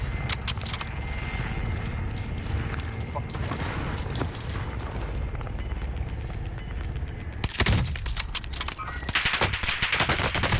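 Sustained machine-gun fire and heavy shooting rattle in a Call of Duty Warzone firefight, dense and loud throughout with mechanical clatter, with a sharper burst of shots near the end.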